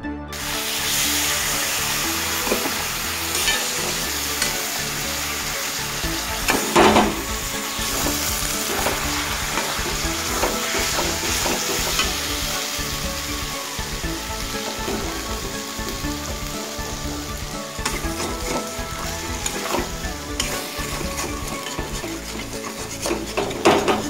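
Spice paste for jackfruit curry sautés in a pan with a continuous sizzle, punctuated by rhythmic scraping and clinking of a spoon stirring against the metal, close and steady throughout with no talking.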